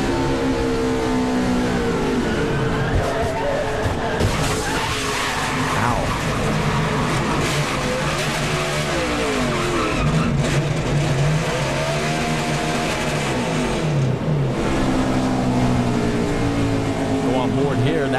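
A NASCAR race car's onboard engine drones loud and steady at high revs, wavering as it lifts and powers through corners over a long run, with a commentator talking over it.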